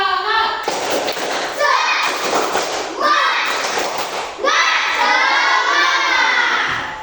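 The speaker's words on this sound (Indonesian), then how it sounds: "coba tepuk semangat dulu" A classroom of children performs the tepuk semangat clapping chant, with loud rhythmic bursts of clapping mixed with their chanting voices, repeated in several short sections.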